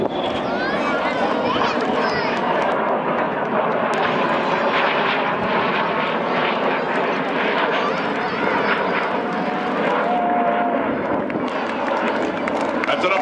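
B-2 stealth bomber Spirit of Indiana flying over the Winston Salem airshow, a broad, steady jet roar that fills the whole stretch, with crowd murmur and voices beneath it.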